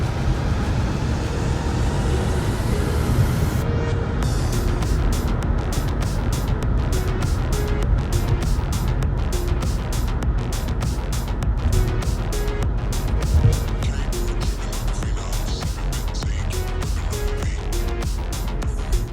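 A Lexus IS200 car with freshly repaired worn-out brakes drives on a test run, its engine and road noise a steady, loud drone throughout, with rhythmic ticking above the rumble.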